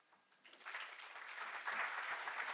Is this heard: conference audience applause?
yes